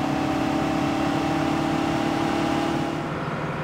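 A tractor engine drones steadily at a constant pitch in Farming Simulator 17, a moderate and continuous hum that eases slightly toward the end.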